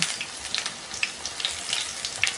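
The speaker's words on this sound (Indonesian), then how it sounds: "langsung kita goreng aja karena nanti kita kan mau campur dengan sambelnya" Tempeh pieces frying in hot oil, a soft continuous sizzle with scattered crackling pops, fairly quiet and with no talking.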